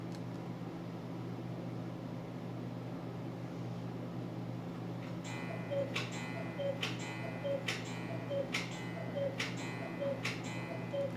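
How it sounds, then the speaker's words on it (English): A cuckoo clock ticks in a steady, evenly spaced rhythm that begins partway through, each tick a crisp click over a constant low room hum. "Even the cuckoo clock approves."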